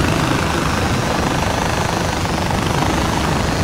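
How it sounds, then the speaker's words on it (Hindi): Helicopter in flight in the video game Far Cry 4, a loud, steady rotor and engine roar filling the whole clip without pause. "भाई ये हेलीकॉप्टर बेस्ट है भाई"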